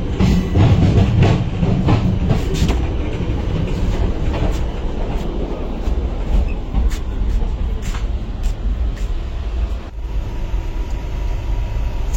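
Loud, steady rumble of a moving Indian passenger train heard from outside the coach, with rattling wheels and clanking carriage noise running continuously throughout.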